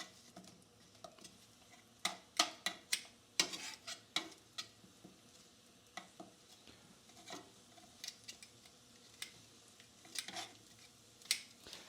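Plantain slices frying in a pan of oil give off scattered sharp crackles and pops over a faint steady sizzle, close by and moderately quiet, with no talking.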